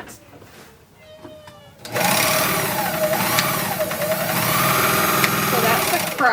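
Serger sewing machine stitching the bottom of 1930s-style tap pants, starting after a brief spoken word and then running loud and steady at close range with slight speed changes.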